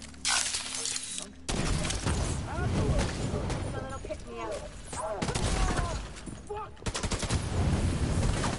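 Gunfire in The Division's dark zone, dense overlapping bursts of automatic shots and shattering impacts throughout, loud and continuous, with a player talking over the game sounds.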